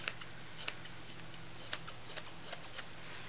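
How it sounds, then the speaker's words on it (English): Thinning scissors trim a dog's coat around the ears, giving quick, crisp metallic snips in uneven bursts, close and clear against a quiet background with no talking. "So thinning scissors, and just literally take off that coat that's sticking out."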